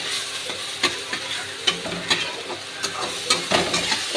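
A mixture being stirred and sautéed in a frying pan, already salted and cooking down toward dryness before egg is added; steady close sizzle with repeated scraping strokes of the spoon at an irregular rhythm, no voices.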